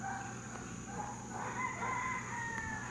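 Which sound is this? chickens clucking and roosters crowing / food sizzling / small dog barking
chickens clucking and roosters crowing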